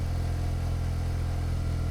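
A turbocharged Mazda RX-8 rotary engine, set up for flex fuel, idles steadily up close, with a smooth, even, rapid pulsing drone and no voices.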